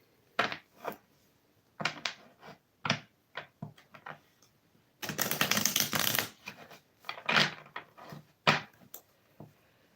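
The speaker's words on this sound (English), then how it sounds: "I usually shuffle my cards offline because it takes so long." Tarot cards being shuffled by hand at close range, quiet papery taps and flicks coming in short bursts, with one longer riffling flurry in the middle.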